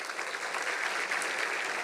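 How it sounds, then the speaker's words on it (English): Brief burst of audience applause at a Founders Day and birthday ceremony, dense steady clapping from a crowd heard at a moderate distance, with no voices over it. "Can we keep the applause going, please, and louder?"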